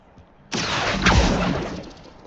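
A spell cast in the video game Hogwarts Legacy: a sudden loud whooshing burst with a sharp magical zing, ringing briefly and then fading out over about two seconds.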